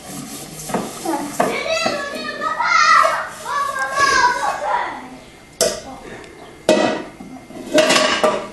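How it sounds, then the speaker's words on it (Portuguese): A child washing dishes and plates, with repeated clinks and clatters of dishware and cutlery, some sharp knocks, and running water under frequent child and adult speech close by. "Lava o prato."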